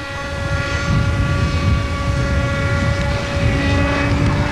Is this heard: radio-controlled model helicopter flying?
yes